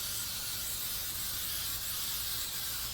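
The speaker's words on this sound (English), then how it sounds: "we're also going to take the back side and spray that as well." Spray paint hissing steadily from an aerosol can onto the back of a DIY Halloween tombstone board, a continuous close, loud broadband hiss lasting throughout with no speech.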